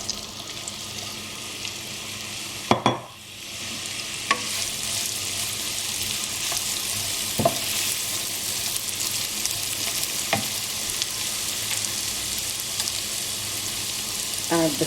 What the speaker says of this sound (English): we're going to start frying off the onions